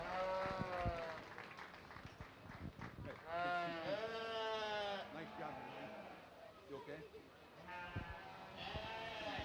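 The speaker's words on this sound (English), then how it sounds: "Nice set of breeding sheep." Sheep bleat repeatedly at a county fair sheep show, several loud overlapping calls from animals nearby, with crowd and announcer talk under them.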